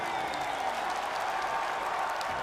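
Crowd at a Brawl Stars championship cheering and applauding steadily for a team after a game win, a dense continuous roar of voices and clapping throughout.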